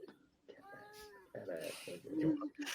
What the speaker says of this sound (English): Is the cat hungry or what?